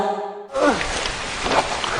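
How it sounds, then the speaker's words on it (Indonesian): Heavy rain pouring down, a steady dense broadband hiss that starts abruptly after a brief quiet opening and continues loud and even to the end. "Hujan turun dengan derasnya"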